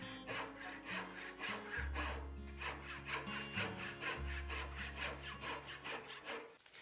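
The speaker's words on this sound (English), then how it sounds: "This was actually one of the first times I even used this Rob Cosman dovetail saw" A Rob Cosman dovetail saw cuts houndstooth dovetails in wood with steady, rhythmic back-and-forth rasping strokes, close and clear, with no talk over it.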